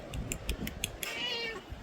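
A sister's pet cat indoors gives a run of close, clear meows, several short calls followed by a longer drawn-out one, heard alone without talk.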